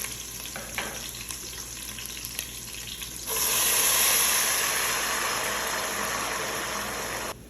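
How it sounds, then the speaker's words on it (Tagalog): Water pours into a pan of sautéed onion and garlic, turning a quiet sizzle into a loud, steady hiss and bubbling rush midway that holds to the end. "At ngayon i-add ko na yung water."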